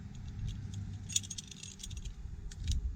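A metal climbing device clipped onto a climbing rope, heard as a close jangle of metal hardware with a sharp click near the middle, then light rattling.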